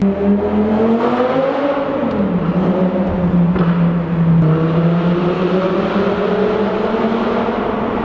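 A V10 manual car under way on the drive home, its engine droning loud and steady from inside the cabin, the pitch rising and falling slightly with throttle and gear changes, with no talking.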